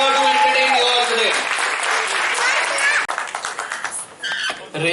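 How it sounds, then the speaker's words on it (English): An audience at a live music show applauds loudly and densely, with cheering and voices mixed in, fading into scattered claps. "Give a huge round of applause for this crazy family who is here to entertain you all today."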